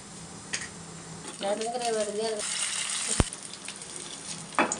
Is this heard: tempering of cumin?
yes